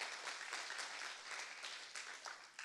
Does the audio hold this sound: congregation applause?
yes